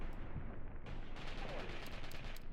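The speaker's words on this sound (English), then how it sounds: "Mortars are now at least engaging these guys here, which is good to see" Mortar fire in the war game Mius Front: a dense, continuous barrage of booming blasts and crackling gunfire, loud and close throughout with no pauses.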